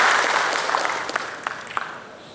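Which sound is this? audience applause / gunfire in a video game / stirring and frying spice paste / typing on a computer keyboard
audience applause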